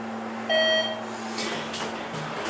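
A ThyssenKrupp Endura traditional hydraulic elevator at Skyrush in Hershey, Pennsylvania gives a single short, clear electronic beep over a steady low cab hum.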